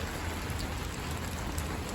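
Steady rain falls outdoors during a thunderstorm, a dense continuous hiss of drops on surfaces that holds an even level from start to finish with no talking.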